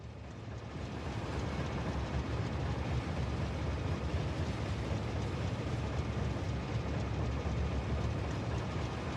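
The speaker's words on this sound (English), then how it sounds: "I am cruising on a train." Riding a train in the video game Factorio: Space Age, heard as a steady, dense rumbling roar that builds in the first second and then holds constant and loud without any talk.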